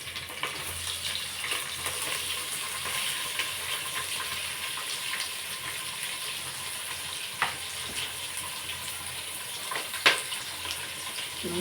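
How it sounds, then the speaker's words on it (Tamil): Onions sauté in a large pan for a mutton curry, a steady moderate sizzling hiss with a few sharp stirring clicks and scrapes. "வெங்காயம் போட்டு நல்லா வதக்கி வச்சுக்கலாம்"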